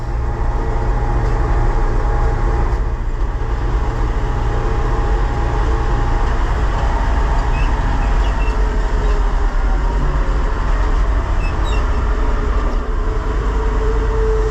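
A White 4-150 tractor engine running without a proper idle because the throttle needs adjusting, a loud, constant low mechanical roar that holds steady throughout with no change in pace.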